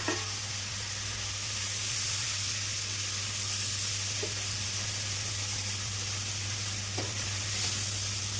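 Paneer fries in melted butter in a pan, giving a steady, loud, close sizzle and hiss that lasts the whole time. A couple of faint clicks can be heard, and nobody talks.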